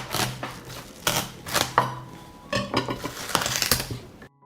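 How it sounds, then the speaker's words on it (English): A knife cutting watermelon into large pieces, with repeated close chopping and slicing knocks on a board and the clink of utensils in a quiet kitchen, with no talking. "I cut the watermelon into larger pieces."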